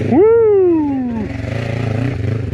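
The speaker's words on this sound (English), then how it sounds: "Ninja 500 tearing it up" A Kawasaki Ninja 500 motorcycle revs sharply and accelerates close by, its engine note climbing fast then falling away as it pulls off, leaving a lower pulsing rumble.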